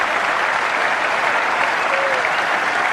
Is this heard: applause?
yes